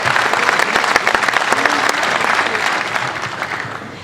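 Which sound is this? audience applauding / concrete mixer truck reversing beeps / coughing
audience applauding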